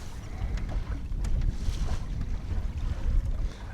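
Steady wind buffeting a small sailboat on the water, a constant low rushing roar with gusts swelling toward the end and no voices.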